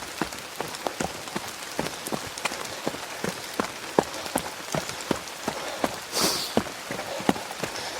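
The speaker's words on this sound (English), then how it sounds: "Even if it's raining hard, when you're under the trees, you get some shelter. The rain hits the leaves first," Heavy rain pattering on tree leaves along a forest trail during a run, dense irregular drops close by with sharper hits spread throughout, steady and fairly loud.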